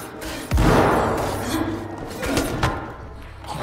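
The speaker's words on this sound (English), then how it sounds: "Flashbang." A flashbang grenade detonates in the zombie game Dead Island 2, a sudden loud thump followed by a lingering ringing wash and a couple of smaller thuds.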